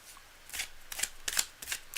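Tarot cards being shuffled by hand, a series of close, crisp riffling bursts in an uneven rhythm, about five quick flurries with short pauses between, and no talking.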